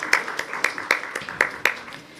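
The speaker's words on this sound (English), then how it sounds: "May we have a big round of applause," A small audience claps to welcome a speaker onto the stage at an insurance conference session, sparse separate hand claps in an uneven rhythm, moderately near and fairly light, with no voices over it.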